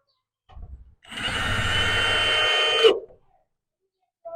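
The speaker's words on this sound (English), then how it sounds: "So he put the 2x4 in, so we are able to put our screws on now and get a good bite." A power drill drives screws into a wooden 2x4 in a pole building. A brief spin comes first, then one steady, loud whirring run of about two seconds that ends abruptly as the screw seats, with no voices.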